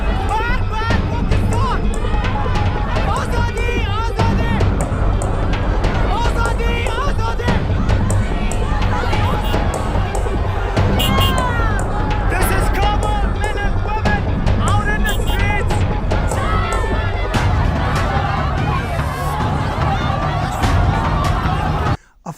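Dense crowd noise outside the Pakistan embassy, loud and continuous, with massed voices chanting slogans over a steady babble for the whole stretch and no pause.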